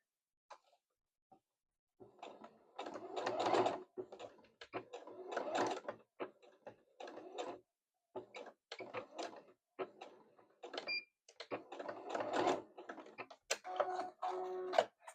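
A sewing machine stitches fabric for a handmade gift, running in short, fairly quiet bursts separated by brief pauses, as if stopping at marks and pivoting at a corner.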